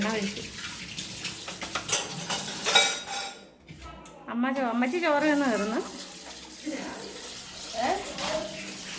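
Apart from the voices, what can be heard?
washing clay pots with water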